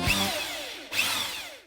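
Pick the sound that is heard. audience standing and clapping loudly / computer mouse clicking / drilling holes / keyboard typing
drilling holes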